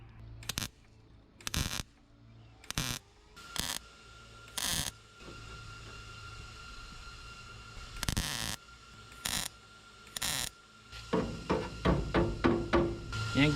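Sharp metallic hammer strikes on sheet metal, fender work on a 1963 Loadstar truck, ring out irregularly, about a dozen blows, then a quick rapid series at the end, with a faint hum between.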